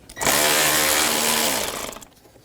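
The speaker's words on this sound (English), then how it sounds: "Now I'm going to go ahead and remove this 8mm bolt" An 8mm bolt comes out of a 2011–2027 Dodge Durango 5.7L V8 under a power ratchet or impact tool, a loud buzzing whir of about two seconds that rises and then winds down.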